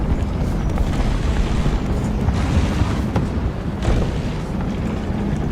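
Rumbling German diesel tank engine in the War Thunder combat game, a loud continuous low drone with heavy booming texture running steadily throughout, no voices over it.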